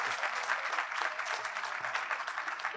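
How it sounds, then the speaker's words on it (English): Audience at a regional quiz competition round clapping together, a steady, even wash of applause that holds for under three seconds at moderate volume. "Give them a round of applause"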